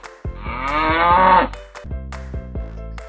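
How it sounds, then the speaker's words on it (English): A single cow moos loudly and up close, one long drawn-out low call that swells and then fades, followed by a few short voiced grunts, with no talk over it. "Cow. This is cow."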